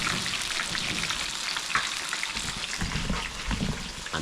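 Food frying in hot oil in Jamaican cooking gives a steady, dense crackling sizzle that carries on without a break, loud and close.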